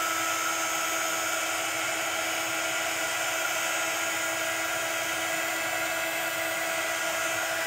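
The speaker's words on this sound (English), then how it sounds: "So to do that, we're going to use our heat gun." Heat gun warming embossing powder on acetate at a crafting table, a steady, loud blowing whine with a high-pitched fan drone, running without a break and without talk.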